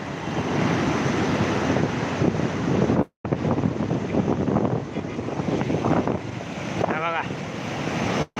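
Strong wind roars and buffets the microphone continuously beside a river, with a rushing, surf-like texture and a couple of brief dropouts.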